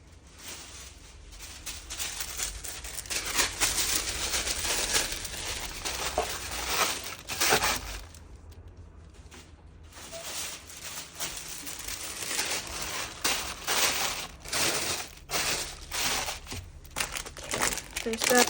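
Tissue paper crinkles and rustles in bursts while an order is packed into a box, close and fairly loud, with brief pauses between handlings.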